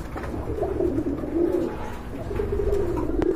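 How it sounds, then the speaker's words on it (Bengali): Red Bombay pigeons coo in low, throaty rolling calls that repeat steadily and close by, against a continuous background murmur from a pigeon seller's setting. "এটা কিন্তু রেড বোম্বাই, অনেক সুন্দর বড় সাইজের কবুতর"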